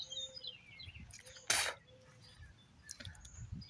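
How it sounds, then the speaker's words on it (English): Small birds chirping and calling outdoors, with thin high tweets scattered across the moment alongside one brief louder rustling burst, all fairly faint against a quiet background. "Listen to the birds."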